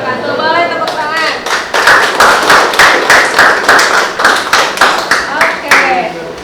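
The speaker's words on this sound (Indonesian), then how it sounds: "Boleh tepuk tangan." A school class claps after a group presentation, a dense run of hand claps with a steady pulsing rhythm that builds after the opening second, close and loud, with a few voices mixed in.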